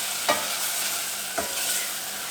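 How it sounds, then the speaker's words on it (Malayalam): Softened tomatoes are stirred in a covered pan for rajma rice, with two short scraping clinks of a spoon against the pan over a steady low sizzle. "നമുക്ക് തുറന്നിട്ട് ഒന്ന് ഇളക്കാം"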